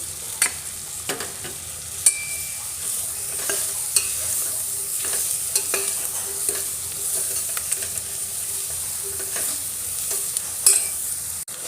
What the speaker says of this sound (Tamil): மசாலாவோட வெங்காயம் நல்லா மிக்ஸ் ஆகணும் கலரிகிட்டே இருக்கலாம்